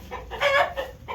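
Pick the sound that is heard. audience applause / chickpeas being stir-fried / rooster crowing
rooster crowing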